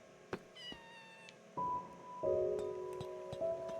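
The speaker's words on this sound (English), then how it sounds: "You're a different cat." A cat in the Minecraft video game meows several times, short clear tonal cries spaced apart, with no talking.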